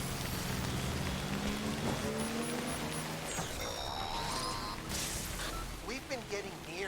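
Steady timefall rain in Death Stranding, a continuous hiss of drops on the ground heard near a motorbike, with faint engine and gear tones rising and falling beneath it.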